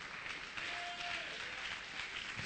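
Church congregation clapping for Jesus during a sermon, a steady wash of many hands applauding at a moderate distance, with faint voices mixed in.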